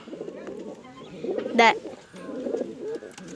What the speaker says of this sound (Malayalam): ഒരു പ്രാവ് ഇതാ.